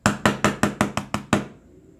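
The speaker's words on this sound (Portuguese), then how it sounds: "o marido bate na porta." Seven sharp knocks on a wooden door at a steady quick rhythm, loud and close, the last one slightly delayed and followed by a short fading ring and quiet room tone.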